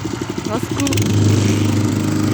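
A walk-behind tractor engine idles steadily on snow, a loud continuous low rumble with a voice speaking briefly over the start.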